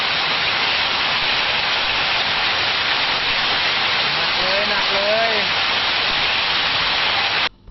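Heavy rain and hail roar in a dense, steady wash of noise in Phop Phra, Tak, Thailand, with a brief voice rising faintly beneath the downpour.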